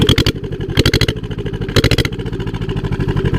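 A Lister Petter diesel engine runs close by with a fast, even thumping firing beat and a rough mechanical clatter.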